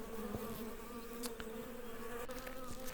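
Honeybees buzz steadily up close, a dense continuous hum with individual bees droning past.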